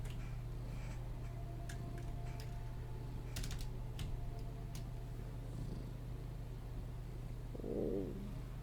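A pet cat purring close by, a low steady rumbling drone held throughout, with scattered clicks of computer keys tapping over it.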